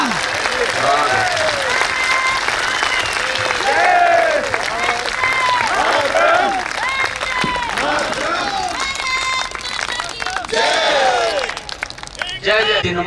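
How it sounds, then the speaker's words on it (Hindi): A large crowd at a Hindi poetry recital claps hard and long in honour of the army, with shouts and cheering voices rising through the thick applause. It thins briefly near the end. "हाथ उठाइएगा जोरदार तालियों के साथ।"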